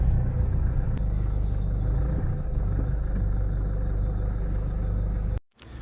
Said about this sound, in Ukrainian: щось підтанцьовує, так крехтить, але хоч їде.